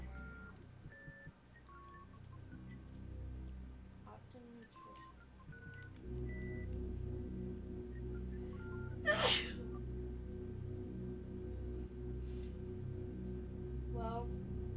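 One loud, sharp sneeze bursts out midway through a quiet live-stream of a Super Metroid play-through on SNES, over low background game music.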